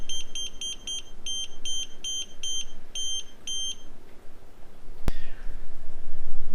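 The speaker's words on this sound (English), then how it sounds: "Let's see how long it takes before the beeps slow down." A Toptes gas leak detector gives a rapid series of high, evenly spaced electronic beeps that stop partway through, followed by a sharp click against a low background hum.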